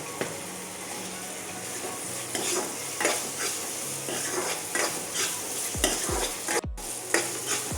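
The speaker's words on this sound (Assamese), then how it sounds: "আদা নহৰুৰ কেঁচা গোন্ধটো যোৱালৈকে অলপ ভাজিব লাগিব" Ginger-garlic paste and onions frying in a pan for Assamese-style chicken pulao, a steady sizzle under repeated stirring and scraping strokes, with a few clanks of a utensil against the pot.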